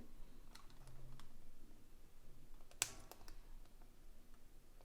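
A single sharp computer mouse click lands near the middle, close and brief, over soft keyboard-like tapping and quiet room noise.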